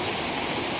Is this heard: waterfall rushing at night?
yes